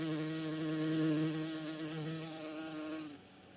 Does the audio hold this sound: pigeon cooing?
no